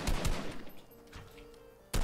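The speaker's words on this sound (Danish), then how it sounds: "Ej, vi bliver skudt fra oppefra!" Gunfire in the video game Fortnite: a rapid burst of shots, then a lull and another sharp shot, loud and close.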